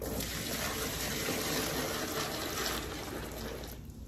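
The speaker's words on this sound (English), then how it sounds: "Hot water." Hot water pours steadily from a tap into a mop bucket, a continuous close rushing gush holding level for about four seconds and easing slightly at the end.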